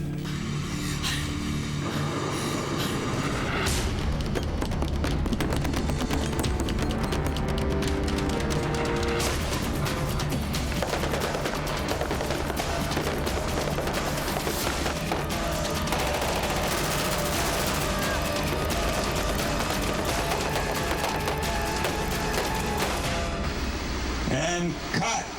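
Large fuel-air explosion set off on a film set to shred a building, a loud sustained roar of blast and crashing debris lasting over twenty seconds, with voices heard in the background.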